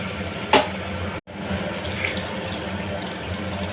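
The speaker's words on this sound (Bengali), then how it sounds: "গরম জল দিলাম রান্নাটা হওয়ার জন্য।" Hot water poured into a pan of jackfruit and potato curry, a steady close splashing stream with a brief clatter near the start and a short break midway.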